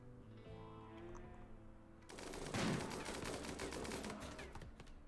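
Colonists in the RimWorld video game fire en masse at a herd, producing a sudden dense barrage of rapid, overlapping gunshots that continues steadily to the end.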